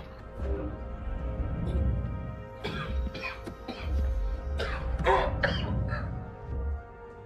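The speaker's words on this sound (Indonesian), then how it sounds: "Kemudian si kapten malah batuk-batuk dan kayak sakit gitu" A series of coughs, several short harsh bursts spread over a few seconds, with a hum and low rumble behind them.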